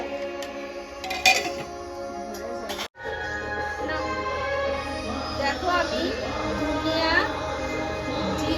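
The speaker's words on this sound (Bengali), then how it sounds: "এই যে ওলগুলো আমি কেটে নিয়েছি আমি এখন ভাতের ভিতরে দিয়ে দিলাম আবার নেড়ে নিলাম" Chunks of elephant foot yam are stirred into rice in a cooking pot, with a brief metallic clatter and soft scraping against the pot under a continuous voice.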